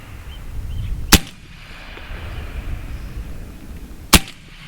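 Two sharp, loud cracks of a semi-automatic AEA Terminator .30 caliber PCP air rifle, about three seconds apart, ring out over steady outdoor rumble at a range.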